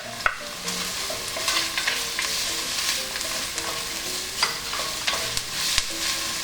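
Ginger and onion sautéing in a hot pan as the base for jackfruit and blue crab in coconut milk: a steady close sizzle broken by sharp spatula clicks and scrapes, with no voices.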